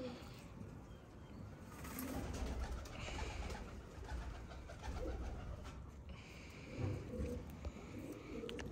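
Pigeons cooing softly in a loft of flying pigeons, low repeated throaty coos with faint chirps and light handling noises, fairly quiet and close.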